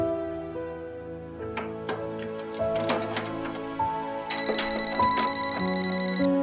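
Electronic telephone ring tones from an outgoing call in a Pakistani drama scene, a series of beeping notes and rings at moderate level with no speech over them.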